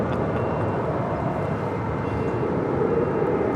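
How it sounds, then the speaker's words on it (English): A JetBlue Airways A321 arriving at LAX roars past as a steady, broad rushing drone of jet engines, loud and continuous throughout. "That is JetBlue Airways Flight 1373 coming in from Newark"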